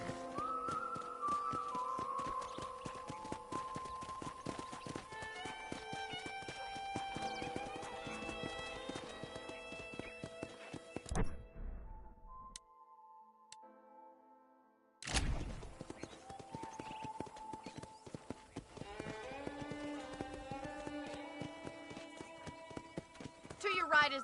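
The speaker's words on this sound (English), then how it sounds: "let's see if you can still ride a horse." Hoofbeats of a ridden horse in a video game clop steadily under a music score, with a short break midway and a character speaking over the scene.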